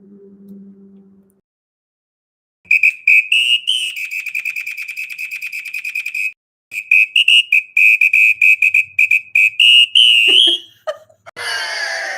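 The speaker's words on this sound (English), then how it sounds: "Let's give a samba whistle." A shrill samba whistle blows a long trilling blast, then a run of quick rhythmic chirps, loud and close, ending in squeaky sounds.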